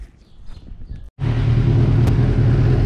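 A 2016 Kawasaki Z1000 motorcycle starts after a quiet stretch of faint handling noise, catching abruptly and settling into a loud, steady, close idle with a deep, even engine rumble.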